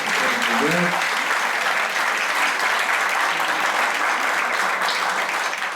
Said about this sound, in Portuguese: pedir uma salva de palmas para as nossas debatedoras